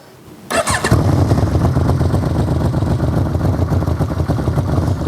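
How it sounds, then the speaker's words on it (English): A Yamaha VMAX motorcycle starts cold after a brief quiet moment, the starter catching into a sudden roar that drops to a loud, close, lumpy idle with steady mechanical clatter. "Time to do a cold start of it, so I'm going to put the key in the ignition,"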